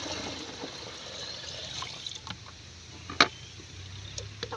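Water being poured from a can into a homemade fruit fertilizer mix, giving a soft, steady trickle close by with a few small splashes and drips.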